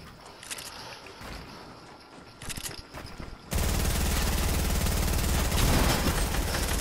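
Fortnite gunfire, first sparse scattered shots at a distance, then a sudden loud, sustained rapid burst of automatic fire that continues to the end.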